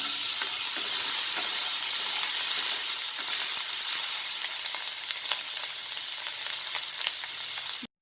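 Onions sizzle and fry steadily in a pan while being cooked for masala Maggi, a continuous close hiss with occasional crackles and stirring, no voices.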